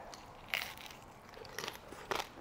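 Crunchy bites into the shell-on part of a fried invasive-species dish, three crisp crackling crunches spaced apart over quiet room tone, close to the mic.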